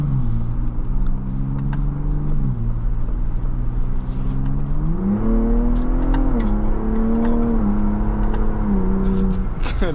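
A 2024 Ford Bronco Raptor accelerating, its engine note droning loud and steady from inside the cabin, rising in pitch through the gears with brief drops at each shift.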